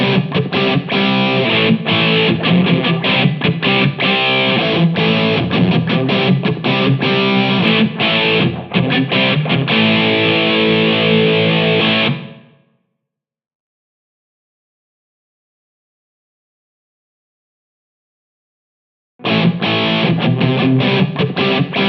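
Distorted electric guitar through a BOSS EH-2 Enhancer pedal, a thick saturated sound playing loud and continuous, cutting to silence for several seconds before resuming.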